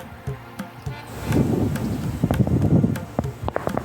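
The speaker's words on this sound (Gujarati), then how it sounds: "બાકી પવન ફૂલ આવે અત્યારે" Gusty wind buffets the microphone in rumbling bursts, with occasional sharp knocks and rustling throughout.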